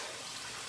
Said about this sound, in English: So I'm gonna rinse this lather off